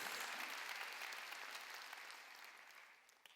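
A church congregation at a Sunday worship service bursts into sustained, dense applause that fills the room and slowly fades over a few seconds, with no voices standing out.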